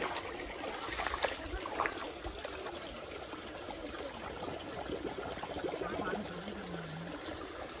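Shallow village stream water trickles and burbles between stones where children are fishing, a soft, continuous, close flow with occasional splashes and no talk.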